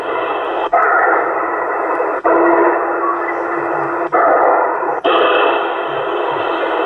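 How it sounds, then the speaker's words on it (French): Hissing FM-style static on a 27 MHz CB radio channel fills the air as a steady, loud wash of noise, broken by a few brief cutouts and bursts over several seconds, with no voices. "le bruit de la FM, ça leur casse les oreilles"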